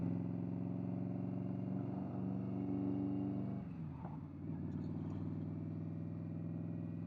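Indian Scout Bobber motorcycle engine droning steadily while riding through village bends, a close, low rumble that briefly drops in pitch and eases off entering a corner before picking up again.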